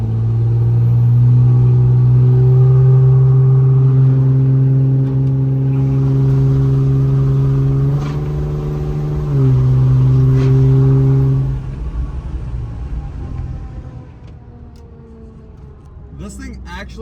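A third-generation Cummins diesel pickup revs and pulls away loudly, its engine note climbing and holding strong before easing off, with someone talking over the roar.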